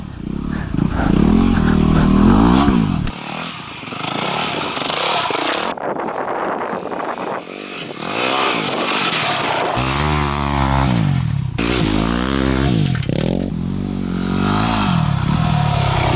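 A Yamaha dirt bike engine revs hard at full throttle, close and loud, rising and falling in repeated surges with some clattering between pulls.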